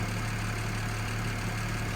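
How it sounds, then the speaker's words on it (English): The engine of a 2008 BMW 335 idles smoothly and steadily, a close, even low hum with no talking over it. "The engine is running very, very smooth"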